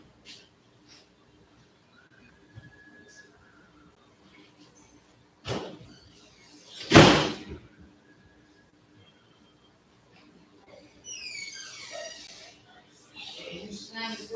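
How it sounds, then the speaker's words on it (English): A door slammed indoors during a class session, heard as a loud, sharp bang that stands out against a quiet room, with a smaller knock just before it and people talking and moving afterward. "Hey, you slam the door,"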